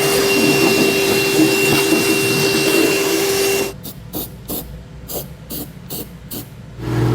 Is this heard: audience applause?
no